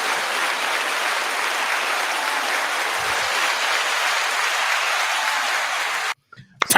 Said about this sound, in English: give a round of applause to our co-host